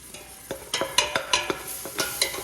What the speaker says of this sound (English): You gotta keep on stirring.